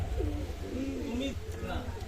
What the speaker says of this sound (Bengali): ওমান লাইনের টেডি কবুতর আপনারা নিঃসন্দেহে করবেন